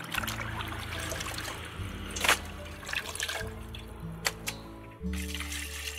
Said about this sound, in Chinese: 最好是用清洁球先洗一遍，这样才能洗干净。